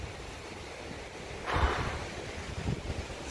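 Wind gusting across an open sandy beach, a steady breathy roar with one strong buffeting gust hitting the microphone midway, rumbling and close, no voices.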